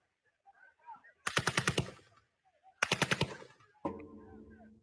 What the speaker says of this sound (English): they could identify live ammunition, including machine gunfire, coming from the sites